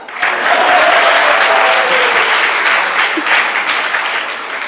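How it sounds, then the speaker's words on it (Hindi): An audience at a Hindu spiritual discourse on the Bhagavad Gita claps together, a dense, steady wash of applause that holds loud and even for several seconds before easing slightly toward the end. "सब लोग ताली बजाओ।"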